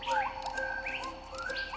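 Birds chirping and tweeting in quick rising and falling calls, several voices overlapping, fairly close and clear against a quiet background.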